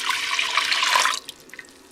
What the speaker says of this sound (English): We're going to pour our rice water